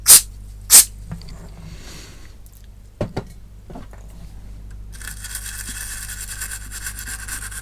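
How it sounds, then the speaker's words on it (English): Contact cleaner sprayed onto a chip socket of a Commodore Plus/4 computer, a sharp hiss that comes in as a steady spray late in the clip after a few taps and knocks, close and fairly loud. "Use a very quick blast of contact cleaner."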